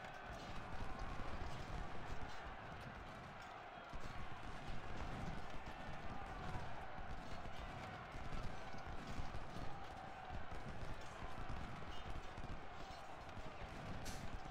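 Horses gallop in a Civil War cavalry battle in Ultimate General: Civil War, a dense, continuous drumming of hooves mixed with battle din, moderately loud throughout.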